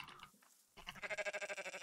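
Sheep bleating in the survival sandbox game Rising World, a short faint sound, then a single wavering bleat with a rapid pulsing tremolo, alone and close.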